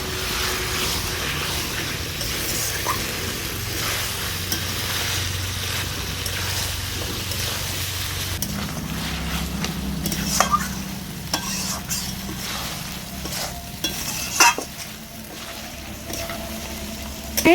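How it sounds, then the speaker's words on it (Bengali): Chicken being slowly stir-fried (kosha) in a pan for a yogurt chicken curry, a continuous close sizzle with a low rumble and occasional scraping knocks of the spatula, no talking. "এবার চিকেনটাকে আমি আস্তে আস্তে কষিয়ে নেব"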